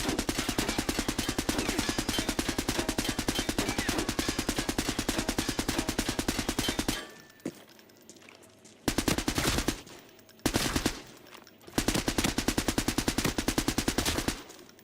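Automatic gunfire from a gun in the video game Arena Breakout Infinite, loud rapid bursts in a long sustained stream, then a pause and several shorter bursts, no talking.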